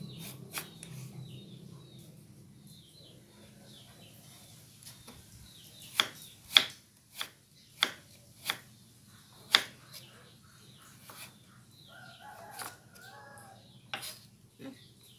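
Knife finely chopping sweet potato on a board in a home kitchen, a series of sharp, separate, evenly spaced cuts, close and fairly faint, amid quiet room sound.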